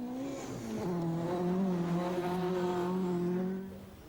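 A Ford Escort RS rally car drives hard along a 1988 British rally stage, its engine note climbing and holding loud and near before fading away.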